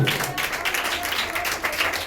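A church congregation at a Sunday service clapping together, a steady, fairly close patter of many hands, with a voice faintly mixed in.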